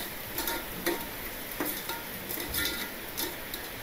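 Onions and garlic sautéing in a pan, a steady soft sizzle broken by repeated scrapes and clinks of a spoon stirring against the metal, close by and with no voices.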